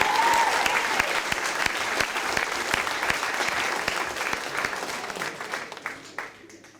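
Audience applause at a high school poetry slam, a dense steady patter of many hands that carries on for several seconds and tapers off softly toward the end.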